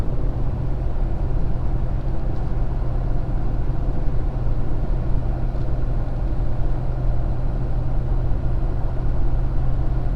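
A 2020 Ford Super Duty pickup tows equipment up a steep hill in eighth gear, its engine a loud, unbroken low drone heard from the cab with no talking.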